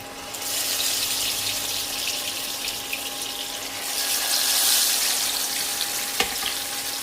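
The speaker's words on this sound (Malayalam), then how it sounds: "വെളിച്ചെണ്ണ ചൂടായി അതിലേക്ക് മീൻ വെച്ച് കൊടുക്കുക." Karimeen pearl-spot fish set into hot coconut oil in a pan, giving a loud, steady frying sizzle that swells midway, with a sharp clink near the end.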